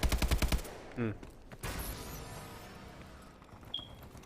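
Rapid bursts of automatic gunfire in the shooter game Call of Duty: Advanced Warfare, loud and close at first, then scattered single shots and blasts fading into game ambience.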